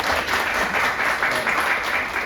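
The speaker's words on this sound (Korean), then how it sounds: "큰 박수 부탁드리겠습니다." An audience at a policy debate in a small meeting room of the National Assembly Library claps in steady, continuous applause, moderately loud and even throughout.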